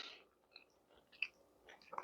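Quiet, close-up chewing of a sugar-crusted black cocoa kouign-amann pastry, with a few scattered crisp crunches at an uneven pace.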